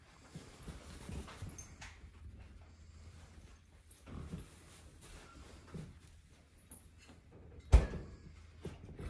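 A Great Dane shifts around with soft thumps and scuffles, and gives brief whimpers and panting in a quiet indoor room, ending in a sharp knock.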